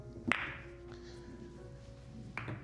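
French carom billiards in Seoul: a cue strikes a ball with a sharp, close click, followed a couple of seconds later by a second crisp ball knock over a quiet room background.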